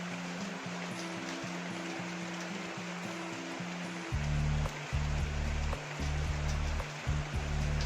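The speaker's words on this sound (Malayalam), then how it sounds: "ഇന്ന് രാവിലെ തന്നെ നല്ല മഴയാണ്, ഒരു രക്ഷയില്ലാത്ത മഴയാണ്" Heavy morning rain falls as a dense, steady hiss filling the whole soundscape, with a low droning hum underneath that grows louder partway through.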